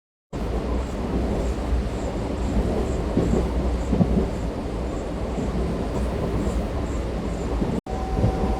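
Rumble of a Narasapur to Rajahmundry MEMU express train running at night, a loud, continuous roar of wheels and carriages from inside with a brief cut near the end.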